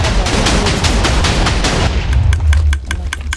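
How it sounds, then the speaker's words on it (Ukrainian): A TNT cannon in Minecraft fires a rapid, loud series of explosive booms, ending in sharper, spaced cracks over a low rumble. "Вона дуже круто стріляє, так, по боках."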